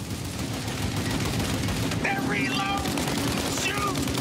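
Gunfire crackles in Mafia Definitive Edition, a dense run of steady shots under continuous game noise, with brief shouted voices partway through.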